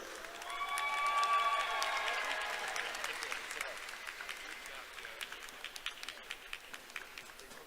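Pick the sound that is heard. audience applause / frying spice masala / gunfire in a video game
audience applause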